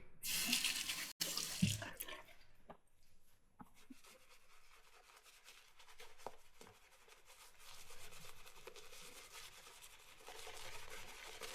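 A bathroom tap runs in a steady, quiet stream while a shaving razor is rinsed under it, with a few clicks and small knocks near the start and a faint flowing hiss continuing after.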